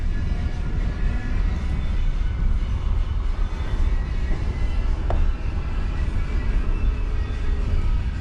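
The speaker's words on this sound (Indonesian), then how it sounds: "Tuh, di sana ada kereta. Ada kereta. Wah, ada lokomotifnya sana noh." A train with a locomotive near Padang station, heard as a steady distant rumble and low drone of rail movement, continuous and fairly even with no voices over it.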